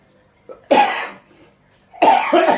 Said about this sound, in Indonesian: Nah, ini hari ini batuk lagi.